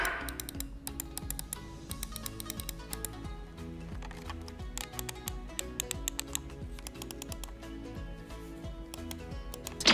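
A Dareu A960 lightweight gaming mouse clicks rapidly and continuously, crisp close ticks in quick bursts layered over soft background music.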